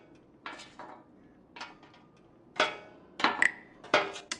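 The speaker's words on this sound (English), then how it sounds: "I might be able to pry it loose with my hands." Metallic scraping and clinking as a screw is worked loose by hand in an audio game, with several separate short clanks and rattles, the last few louder and sharper.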